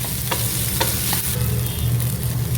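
Chilli and turmeric powder frying and being stirred in a pan for a mushroom masala, with steady loud sizzling and repeated scraping strokes of the spoon, no voices.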